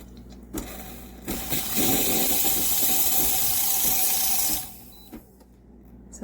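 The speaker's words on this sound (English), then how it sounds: "when you're using the milk frother, you have to turn this to steam." A CASABREWS 20-bar espresso machine's milk frother steaming: a loud, steady broadband hiss starts after a short sputter and runs for about three seconds before cutting off, with faint handling noises after.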